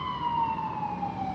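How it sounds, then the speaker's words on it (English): A wailing emergency siren sounds steadily in the distance, its tone sliding slowly downward, with faint traffic rumble beneath. "I organized this siren to be at the right time, but apparently it was a little early"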